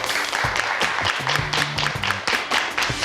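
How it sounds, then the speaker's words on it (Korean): Audience applause welcoming a drone presenter to the stage at a smart-city lecture, a steady wash of clapping with some thumps and low tones mixed in. "박수로 환영해 주십시오"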